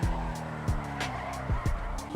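Invetero Coquette D1 sports car in GTA Online, its turbo and exhaust giving repeated low putting pops and bursts over a steady engine drone, close and fairly loud, with no talking.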